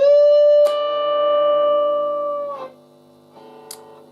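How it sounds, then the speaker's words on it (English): Electric guitar holding a bent note while the pickup is switched from neck to bridge, the tone changing with a click partway through, then a release into quieter notes and a final sharp pick scrape, no talking. "switching from the neck to the bridge,"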